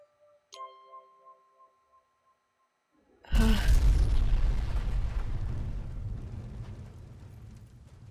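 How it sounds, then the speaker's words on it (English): Inside the Fallout video game, a few soft tones and clicks give way to a sudden, very loud explosion whose deep rumbling boom lingers and slowly fades over several seconds. "That was a really loud boom."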